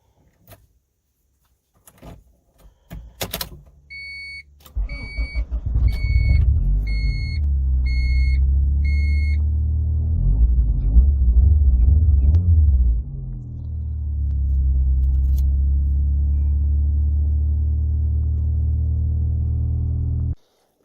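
Ford Mustang drift car firing up after a few clicks and clunks, a brief chime sounding, then the engine settling into a deep, steady idle with a short rev in the middle, close by.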